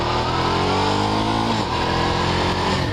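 A Ducati Diavel motorcycle engine runs loud and close, a dense rumbling drone that shifts pitch partway through as the revs change.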